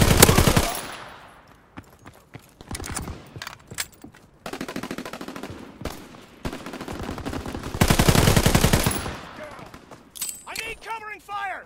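Rapid machine-gun bursts and scattered shots rattle through a Call of Duty: WWII firefight, loud and close in dense volleys with brief lulls, while voices shout over the battle.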